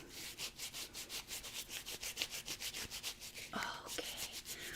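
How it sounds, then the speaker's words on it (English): A paper-crafting stamp is rubbed by hand with fast, steady back-and-forth strokes, a close, soft, papery scrubbing that runs evenly for several seconds with no talking. "Let's rub our stamp."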